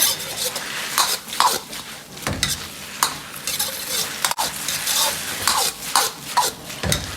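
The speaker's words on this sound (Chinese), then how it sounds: "最后倒入韭菜，快速的翻炒几下，把韭菜炒蔫即可" Garlic chives tossed with lamb blood in a hot wok, a busy stir-fry of sizzling oil and repeated scraping strokes of the spatula against the metal, close and steady throughout, with no talk.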